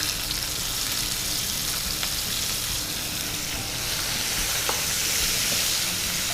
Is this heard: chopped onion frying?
yes